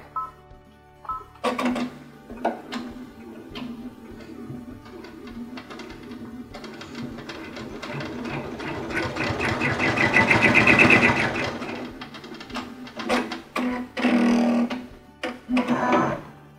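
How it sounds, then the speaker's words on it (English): An embroidery machine stitches a second appliqué fabric onto the first in a hoop, a steady mechanical whirring and rapid needle chatter that starts and stops, swelling louder midway, with no talking. "Now I'm going to turn the machine on and allow the machine to stitch the second fabric to the first fabric."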